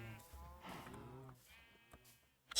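Sheep bleat faintly from a livestock pen in the video game Minecraft: a few wavering, drawn-out cries, then a brief sharp noise at the end.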